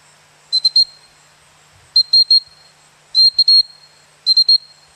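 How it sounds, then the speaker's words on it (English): Gundog recall whistle used in training a springer spaniel, blown in four clear bursts of about three short shrill pips each, spaced evenly against quiet outdoor background. "Some trainers use different whistle tones. I use just three pips."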